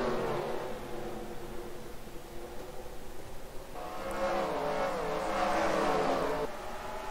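Race cars roar around the Bristol short track in the NASCAR Racing 2003 video game, a steady layered engine drone that swells louder as cars pass close, with no talk.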